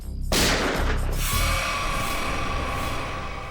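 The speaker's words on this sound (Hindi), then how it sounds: "गोली चली क्या?" A loud gunshot cracks out sharply, followed by a lingering echo and a low rumble that slowly fades.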